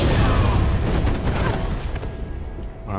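A temple in a video game is blown apart by a massive explosion, a loud sustained rumbling boom with crumbling debris that fills the whole moment and slowly fades.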